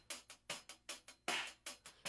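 Hi-hat microphone track from a drum kit, with bright hi-hat cymbal strikes in a steady pattern and the snare drum bleeding through on the louder hits, close and clear with no voices.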